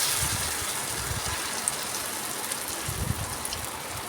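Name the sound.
frying besan chapati roti in oil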